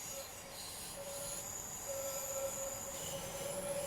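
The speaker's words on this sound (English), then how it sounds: "Watch some trains coming so we can see all sorts coming in." Trains arriving at a station on the Köln–Aachen line in Train Sim World 5, with a sustained high wheel squeal over a soft, steady rolling rumble, distant and faint, no voices.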